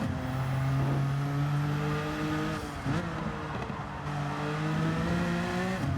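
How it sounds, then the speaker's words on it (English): A 1992 Jaguar XJ220 on stock exhaust in a racing video game revs hard, its loud, steady engine note climbing through gear shifts with brief dips between them. "this one also sounds like it's running stock exhaust."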